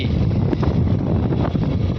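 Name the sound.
cold wind blowing before rain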